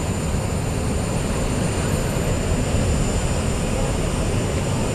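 An Airbus A380 arriving at Delhi airport, heard as a loud, continuous broadband jet engine roar that stays steady and near throughout the short stretch, with no clear speech.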